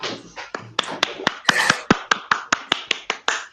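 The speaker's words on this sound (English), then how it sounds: "So this is the applause from all of us, Jana." Hand clapping from one person in an online session, a run of sharp, close claps that speed into a steady rhythm, with no talking over them.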